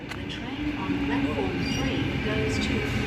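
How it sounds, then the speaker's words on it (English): A Sydney train rolls into Kogarah station platform, a steady close rumble of wheels and motors with faint squeals, while a station announcement voice speaks over it. "Now arriving on the platform 2,"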